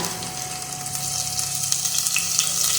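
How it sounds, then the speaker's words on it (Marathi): Garlic, ginger, chili and onion frying in hot oil for veg Manchurian, a steady close crackling sizzle with scattered pops that grows slightly busier over a few seconds. "तेल गरम झालंय आपण याच्यामध्ये घालूया लसूण अद्रक मिरची आणि कांदा"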